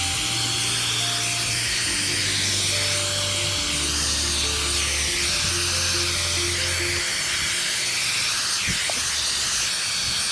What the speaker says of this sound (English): Once again, we'll just do the hairdryer.